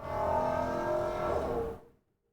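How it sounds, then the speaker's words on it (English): Race car driving past outside, a loud sustained engine roar with a tonal whine that holds for under two seconds and then cuts off abruptly into silence. "There goes someone's racer car."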